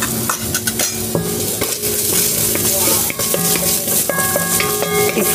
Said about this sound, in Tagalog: I-fry lang natin hanggang lumabas ang kanyang aroma, kanyang amoy.